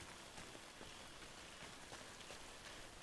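Rain in a video game night city falls steadily as a faint, even hiss with scattered soft drops on surfaces, and no voices.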